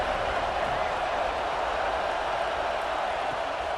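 Constant stadium crowd roar fills a College Football 26 video game broadcast, a steady, even wash of distant cheering with no breaks.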